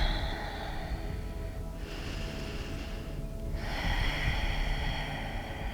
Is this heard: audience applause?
no